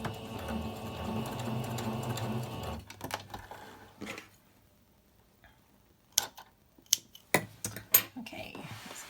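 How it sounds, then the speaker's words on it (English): A sewing machine runs in a steady, fast mechanical whir for about three seconds while stitching Halloween scrunchie fabric, then stops, followed by scattered close clicks and taps. "this is where I started sewing"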